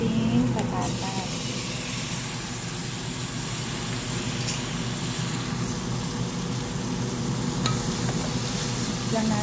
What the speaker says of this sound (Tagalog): ilalagay na natin yung ating patatas